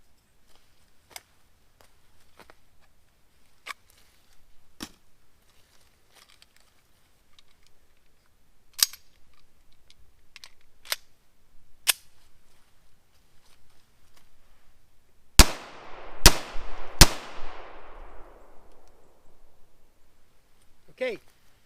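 A Springfield SA-35 pistol fires three loud, close shots in quick succession, each ringing out with a decaying tail, after a stretch of sparse mechanical clicks and handling noises.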